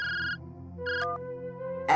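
Cartoon phone ringtone plays a bright electronic melody of repeated tones, loud and clear with no talk over it.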